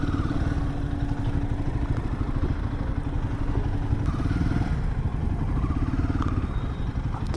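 A Royal Enfield Himalayan 450 motorcycle rides through traffic, its steady mid-pitched engine drone and rattling thrum constant and close throughout, with wind and road noise and no talking.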